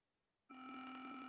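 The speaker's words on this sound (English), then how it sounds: "And this time we're going to choose the ringtone." A micro:bit plays a ringtone, a single sustained electronic beep tone starting abruptly after a moment of quiet and holding steady, faint and thin, with no speech.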